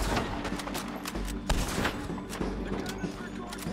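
Rapid gunfire from the Red Dead Redemption 2 video game crackles in dense bursts throughout, loud and continuous, with voices faintly mixed underneath.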